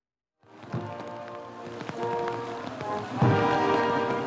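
Heavy downpour on a Singapore city street during a state funeral, a dense steady hiss of rain on surfaces that swells slightly louder toward the end, with a low rumble underneath and no clear talk.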